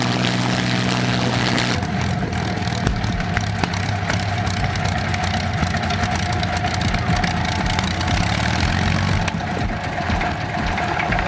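An old supercharged fighter-aircraft piston engine of up to 1,640 horsepower runs steadily, a loud, continuous droning roar with a rough, rapid pulsing and a slight shift in pitch early on.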